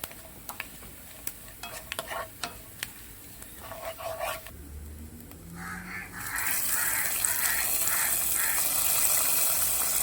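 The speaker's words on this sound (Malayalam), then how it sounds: "എന്നിട്ട് പായസത്തിലേക്ക് ഒഴിച്ച് കൊടുക്കാം." Some clinks of stirring, then liquid pours and sizzles into split moong dal payasam, rising into a steady loud hiss for the last several seconds.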